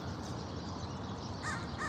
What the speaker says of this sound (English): I have a crow above me.